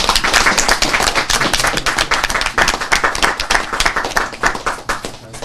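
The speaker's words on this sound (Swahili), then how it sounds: "Tupige makofi." Applause fills a Meru County Assembly session during the enactment of the appropriations bill, with many hands clapping steadily and loudly for several seconds.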